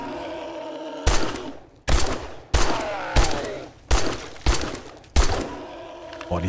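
Pipe machine gun fire in the survival crafting game Craft Until You Die: seven loud, sharp bursts spaced about a second apart, each with a hard attack and short ringing tail, close and dominant with no talk.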